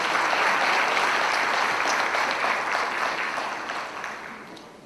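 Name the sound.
applause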